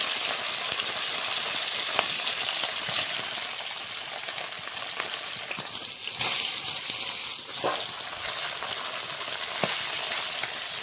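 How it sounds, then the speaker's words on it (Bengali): Fish frying in hot oil in a kadai, a loud, dense sizzle and crackle that holds steady throughout, with occasional sharper pops and spatters. "কড়াইতে মাছগুলো দিয়ে দিচ্ছি।"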